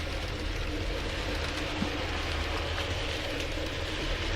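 Union Mills LSWR T9 Greyhound model locomotive hauling a rake of ten BR Mark 1 carriages, a steady low rumble of wheels on track running continuously at moderate level with no voices.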